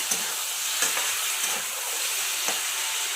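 Oil sizzles and crackles steadily as fish is fried, with a few soft clicks from stirring.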